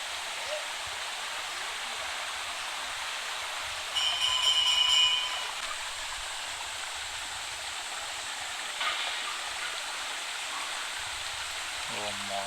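Stream water near the Gubbala Mangamma temple rushes in a steady, even wash throughout, with a few faint tones briefly rising over it.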